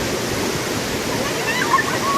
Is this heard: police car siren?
no